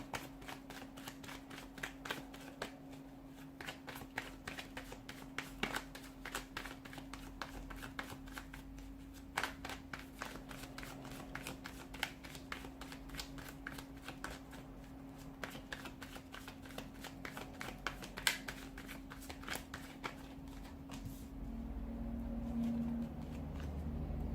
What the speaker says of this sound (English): Let's give the cards a shuffle and begin